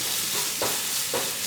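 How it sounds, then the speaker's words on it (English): Onions cooking down with dissolved brown sugar in a pan over medium-low heat, giving a continuous soft sizzle with two brief stirring scrapes, no voices. "Now we were caramelizing onions."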